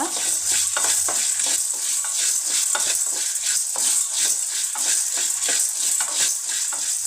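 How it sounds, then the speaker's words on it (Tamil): Karamani beans dry roasted in a kadai without oil, stirred with steady rhythmic scraping and rattling strokes over a faint continuous sizzle, close and fairly loud. "ஒரு கடாயில் எண்ணெய் எதுவும் விடாமல் நம்ம எடுத்துருக்கிற காராமணி சேர்த்து லேசாக வறுத்துக்கோங்க"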